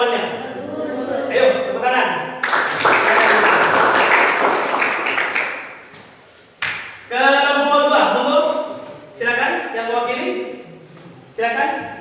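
Classroom students break into a burst of clapping lasting several seconds, loud and close, with a teacher's voice speaking before and after the applause.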